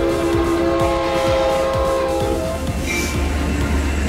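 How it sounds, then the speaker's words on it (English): A double-decker railway train running steadily at close range, with a continuous loud rumble and a rhythmic clatter of wheels over rail joints; no one speaks. "Double-decker train."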